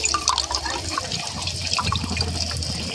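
Water trickles steadily, close by, into a small amount held for squeezing lemon into a mustard-oil lemon fish curry; an even, continuous pour with no voices.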